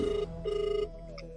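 An incoming call rings on a telephone as two steady, electronic ring bursts with a short gap between them, close and clear, followed by a faint fading tone and no speech.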